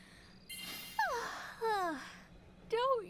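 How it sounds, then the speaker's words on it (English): Drawn-out yawning from characters in the video game World of Final Fantasy, with three separate falling, sighing vocal sweeps rising to a peak and then trailing off, heard close and fairly clear. "Don't yawn, Lon. You're making me yawn, too"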